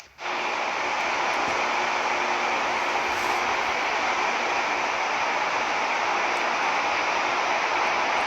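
An aeroplane in a mobile battle video game produces a loud, unbroken engine roar that holds steady from start to finish, with no voices over it.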